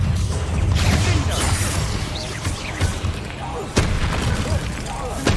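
Booming spell blasts from the Bombarda curse in the game Hogwarts Legacy, heavy low explosions and crashes rolling through a dense battle mix, with a player's voice shouting over the combat.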